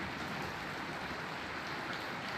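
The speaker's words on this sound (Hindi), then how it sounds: "इतनी ज़्यादा बारिश हो रही है कि बाहर मुंह नहीं निकल रहा" Heavy rain pours steadily outside, a dense, unbroken hiss of water with no pauses and no voices.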